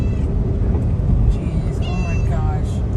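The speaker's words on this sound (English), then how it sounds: "a sweet cat, and it's not scared of the car" A cat meows a few times near a car on a road at night, the thin calls rising over a steady engine rumble while people talk.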